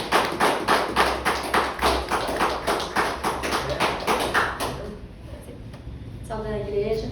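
Congregation in a church clapping in a rapid steady rhythm, loud and close, fading out after about five seconds, with a voice talking afterwards.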